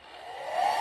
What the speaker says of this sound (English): Grab her hair dryer.